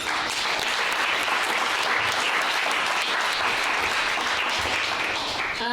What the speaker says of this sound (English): let's offer him a round of applause